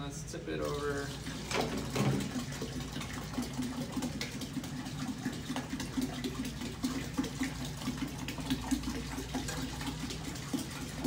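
Water gushing and splashing from a tipped-over container at an indoor martial arts gym, a continuous pouring rush under intermittent voices.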